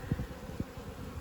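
Bees buzzing around a beehive, a short close hum with a couple of brief louder passes as insects fly by.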